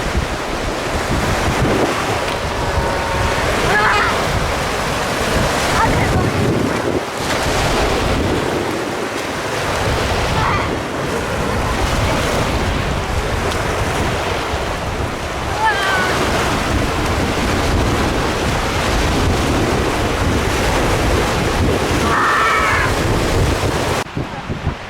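Ocean waves rolling onto a beach, a steady loud wash of surf with heavy wind buffeting the microphone throughout, no clear talking.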